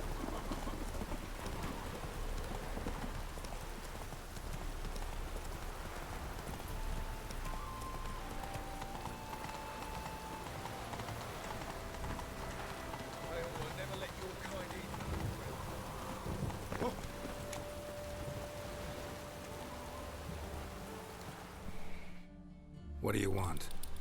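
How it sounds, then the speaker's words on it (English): Rain pours steadily in the Witcher 3 video game, a constant hiss under the clip-clop of a horse's hooves and someone speaking, with a faint rumble of thunder in the distance. "No use doing any work in this rain."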